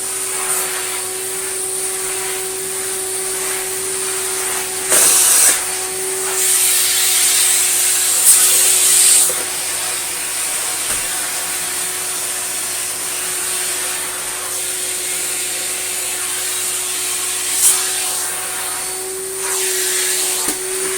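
An Electrolux Slimline Mk2 156 vacuum cleaner runs on carpet with a steady, loud motor drone throughout. A few brief swells and whooshes sound as the head moves, and no one speaks.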